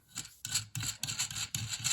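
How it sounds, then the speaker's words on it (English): A table leg is screwed into its base, producing a series of short rubbing, scraping bursts in a regular rhythm, close up and fairly quiet. "I'll go ahead and screw the leg in down to where it just touches"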